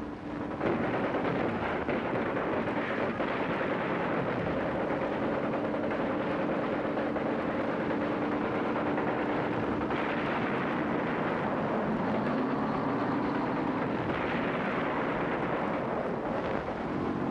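Dense, continuous booming and rumbling of heavy gunfire and explosions bombarding landing areas before an amphibious assault blends into a loud, unbroken roar throughout.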